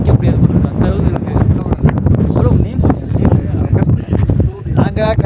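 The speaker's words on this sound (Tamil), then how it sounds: "செம்மையாக காற்றடிக்குது, செம்ம குளிர்." Strong wind buffets the microphone at a high mountain campsite in Ladakh, a loud continuous roar with gusty rumbling throughout, while people talk over it.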